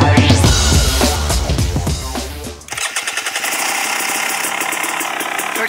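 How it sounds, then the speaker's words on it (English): A KTM 300 XCW 6 Days Edition two-stroke dirt bike engine is kicked and fired up, roaring loudly at first before settling into a rapid, popping idle close by on a chilly day. "We'll get the trusty KTM 300 XCW 6 Days Edition fired up and we'll go for a little ride."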